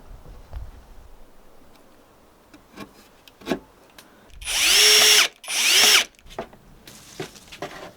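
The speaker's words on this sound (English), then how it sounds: "mark where we're gonna pre-drill the hole" Two short bursts of a power drill whirring as it pre-drills holes in timber, preceded and followed by scattered clicks and taps of handling, close and loud.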